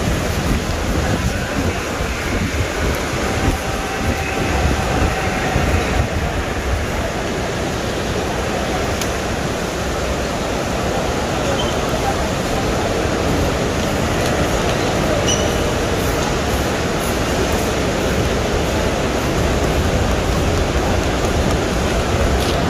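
Heavy rain pouring down at Masjidil Haram in Mecca, a steady, dense hiss that stays loud and unbroken the whole time.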